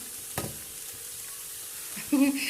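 One teaspoon of cumin seeds drops into hot oil in a pan, a short soft sizzle with a quick clink early on and a brighter crackling burst near the end.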